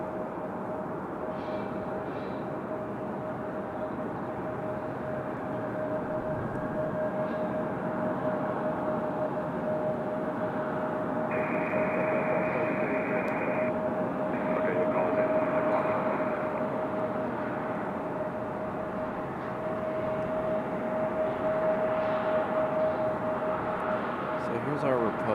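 A JetBlue Airbus A220 jet taking off at Raleigh Durham International Airport, a steady distant engine roar that swells slightly mid-way, heard under continuous talk.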